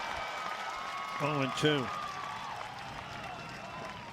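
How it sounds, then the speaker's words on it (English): Ballpark crowd at Pete Taylor Park during a college baseball game between UC Santa Barbara and Southern Miss, a steady distant murmur with a brief swell of cheering, under a play-by-play announcer's voice. "Listen to that crowd here at Pete Taylor Park."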